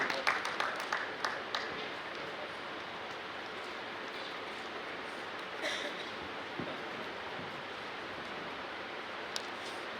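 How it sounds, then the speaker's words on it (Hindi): Applause from an audience at a dance-drama event in Bhopal, a dense patter of clapping with a few sharper claps at the start, sustained and fairly distant throughout. "करतल ध्वनि रुकना नहीं चाहिए"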